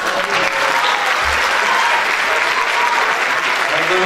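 Sustained audience applause at a Turkish classical music volunteers' concert, greeting the choir as it leaves the stage; dense, steady clapping from many hands filling the hall without pause.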